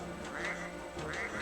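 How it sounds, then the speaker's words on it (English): Duck quacking from the Suikoden 2 role-playing video game, two drawn-out nasal quacks repeated at an even pace, clear and close over a steady backdrop of game music. "Quack quack."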